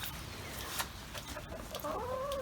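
Chickens cluck and murmur close by on a rainy day, steady rain pattering underneath with a few louder squawks and a drawn-out call toward the end.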